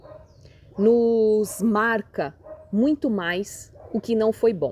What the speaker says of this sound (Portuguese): Vocês estão ouvindo um cachorro latindo?